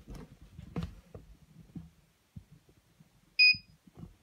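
A short, clear electronic beep from an RCBS Charge Master 1500 powder scale during calibration rings out once amid quiet handling noises and faint clicks.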